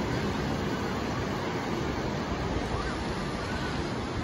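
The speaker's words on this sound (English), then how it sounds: "enjoy the sound of the ocean" Steady ocean surf rolling onto the shore at Myrtle Beach, a dense continuous wash of broadband noise with wind buffeting the microphone, no distinct breaks between waves and no talking.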